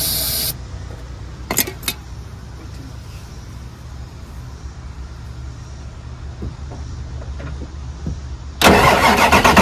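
A 1999 Ford F250 Super Duty service truck with a 7.3 diesel engine cranks with a steady, loud mechanical drone and short bursts, then a harsher, louder roar comes in near the end.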